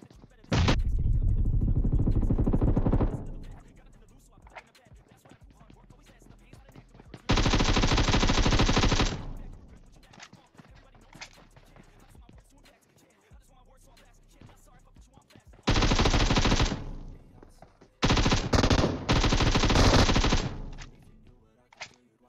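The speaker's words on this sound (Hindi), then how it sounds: "अब हमारी बारी है गोलियां चलाने की" Automatic gunfire in the mobile battle royale game PUBG Mobile during a solo versus squad match, several loud sustained bursts separated by quieter gaps.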